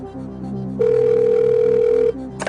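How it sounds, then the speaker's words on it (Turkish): A telephone rings once on the Turkish TV quiz show Milyoner during a contestant's phone call, a single steady electronic tone lasting over a second above studio background murmur. "Çalıyoruz Evrim Mete'nin telefonu."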